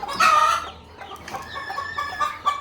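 A desi hen lets out a loud squawk, then continues with a run of softer, close clucks and chirpy calls, with her twelve newly hatched chicks peeping.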